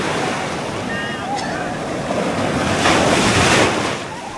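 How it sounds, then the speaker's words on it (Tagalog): Loud ocean surf rolls and crashes continuously at Patar White Sand Beach in Bolinao, Pangasinan, with wind buffeting the microphone and a brief faint voice in the background. "Grabe alon."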